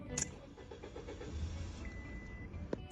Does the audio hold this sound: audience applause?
no